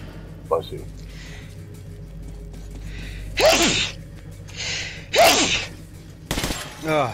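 Several loud human sneezes burst out at intervals, two strong ones and a sharper final one, with people talking quietly in between, in a room with a steady low background hum.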